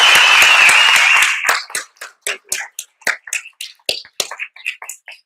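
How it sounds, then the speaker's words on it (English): Loud applause for the wait staff at a community breakfast, a full burst of clapping that quickly thins to scattered individual claps, each distinct and close, before stopping. "If we could do one really loud applause for the wait staff."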